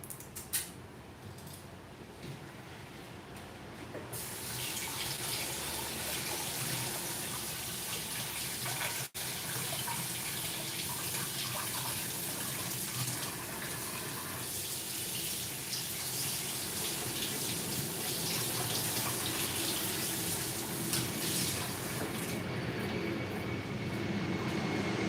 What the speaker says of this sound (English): I just went to rinse the sugar off of this dish